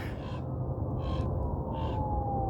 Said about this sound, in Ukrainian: Ворона сіла на вишку і дуже громко каркає.